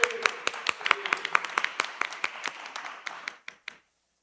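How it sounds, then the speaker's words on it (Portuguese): An audience at a Brazilian seminar on cannabis history, culture and communication breaks into applause, a quick run of distinct claps from a small group that thins out and stops after about four seconds. "Seja muito bem-vindo, Molusco, uma salva de palmas."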